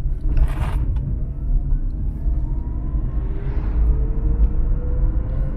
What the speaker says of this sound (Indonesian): saya coba akan akselerasi lagi nih ke mobil ini